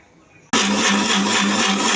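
A mixie jar loaded with washed grapes and water is quiet at first, then the grinder suddenly switches on and runs at a loud, steady high-speed whir close by.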